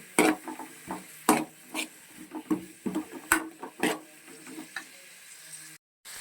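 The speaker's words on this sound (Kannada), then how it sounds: "ಕ್ಯಾರೆಟು ಮತ್ತು ಬೀನ್ಸು ಸ್ವಲ್ಪ ಫ್ರೈ ಆಗಬೇಕು" Carrots and beans frying in a pan for hotel-style Schezwan fried rice, stirred with a utensil: a run of crisp scrapes and clacks in an irregular rhythm over a soft sizzle, close and moderately quiet, ending in a brief dropout.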